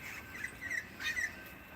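A large parrot squawks in Melbourne, Australia: harsh, rasping calls that are faint and somewhat distant, lasting under two seconds, with no voices.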